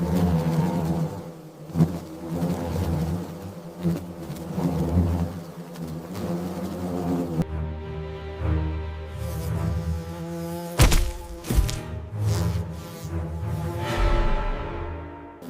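Paper wasps swarm in a furious buzzing mass defending their nest against a huntsman spider, a dense continuous drone with sharp surges and layered tonal hum, loud and close throughout.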